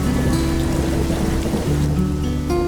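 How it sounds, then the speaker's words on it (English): A tropical downpour on an island where lemurs live hisses steadily and densely throughout, with sustained musical tones running beneath it. "They've endured heat, drought, and the occasional tropical downpour."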